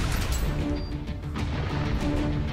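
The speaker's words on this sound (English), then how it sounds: "Oh, that's a huge ass cannon." Huge cannon firing in the online action game Kritka Online, heard as a dense, continuous roar of blasts and crashing impacts filling the whole stretch at steady loudness.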